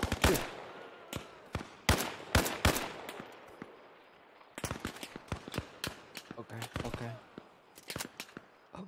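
Sniper and rifle gunfire in the military shooter game Arma Reforger, a string of sharp loud cracks in bursts with gaps, then more scattered shots, with a voice speaking briefly.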